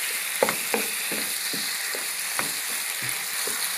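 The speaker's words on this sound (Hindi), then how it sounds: "अदरक लहसुन हमारा फ्राई हो गया और ये अच्छी तरह भून गया" Chicken with golden-fried ginger and garlic sizzles steadily in a pan, close and fairly loud, with a few sharp spatula taps and scrapes over the continuous frying hiss.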